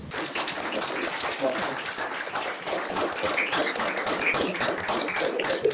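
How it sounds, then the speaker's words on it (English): Sustained audience applause fills a quiz tournament hall at a high school High Q semifinal between Ironton and Alexander, dense steady clapping from a crowd throughout, fairly loud and continuous. "See how long they're going to applaud."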